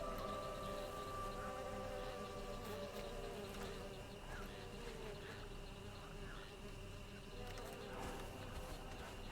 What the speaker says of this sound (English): The bees should help pollinate.